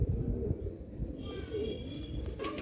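A male Jeera Garra pigeon at a Lucknow pigeon sale gives low, soft coos close by, with some handling noise and faint background murmur.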